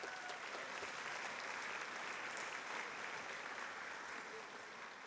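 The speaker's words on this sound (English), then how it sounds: "give Leela a round of applause" Sustained applause from a commencement ceremony audience at The American University of Paris, steady and dense for the whole stretch and easing slightly at the end.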